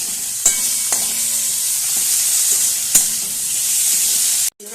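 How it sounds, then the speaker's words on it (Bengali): Tomatoes frying with turmeric and sugar in a pan, a continuous close sizzle broken by a few sharp clicks and scrapes of stirring, ending abruptly. "আবার ভালো করে একবার ভেজে নিচ্ছি"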